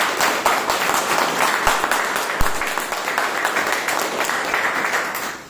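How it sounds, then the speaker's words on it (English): A full-house meeting audience applauds continuously, a dense steady patter with a few sharper individual claps standing out near the middle. "Let's give a round of applause."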